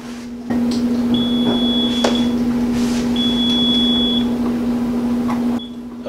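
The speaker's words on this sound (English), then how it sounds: "it basically beeps whenever that turning action is happening" A GQF Sportsman 1502 egg incubator hums steadily throughout while a high-pitched beep sounds in three drawn-out stretches as its trays turn, the last one brief.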